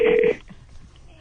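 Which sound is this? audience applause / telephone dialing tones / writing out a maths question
telephone dialing tones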